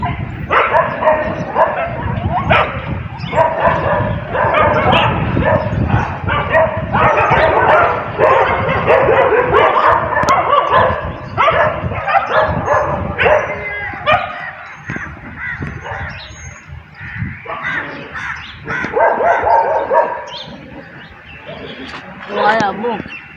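Dogs fighting outdoors bark, yip and whine in loud, near, sustained bursts with a brief lull near the middle, while people talk underneath.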